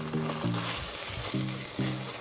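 Mangalore-style chicken ghee roast sizzles in hot ghee as it is stirred, a constant loud frying hiss with the spoon scraping and knocking against the pan in rhythmic strokes, and no one speaking.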